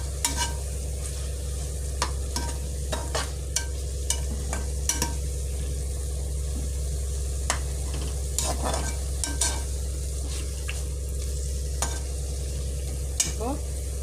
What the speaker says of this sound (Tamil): நல்லா க்ளீன் பண்ணி வச்ச ப்ரான் போட்டுக்கலாம்